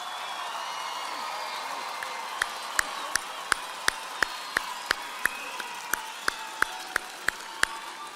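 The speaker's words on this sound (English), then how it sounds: "let's give them another round of applause" Audience at a San Jacinto College commencement ceremony applauds the graduates, a broad crowd clapping wash joined by a single sharp, rhythmic clapper whose loud claps ring out at an even pace above the rest.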